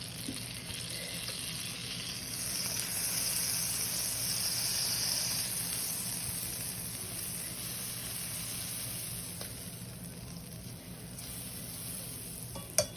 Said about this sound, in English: So I'm going to melt some butter